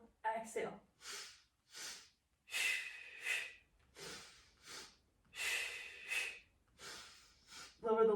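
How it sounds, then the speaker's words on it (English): Rhythmic breathing during a Pilates resistance band workout, with close, soft, regular puffs of breath in and out, repeating steadily and often in pairs. "We go inhale, inhale, exhale, exhale."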